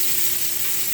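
Scallops fry in a pan as one is turned over, giving a loud, continuous close-up sizzle with a faint steady hum underneath and no speech.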